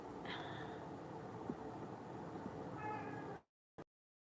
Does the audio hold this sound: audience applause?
no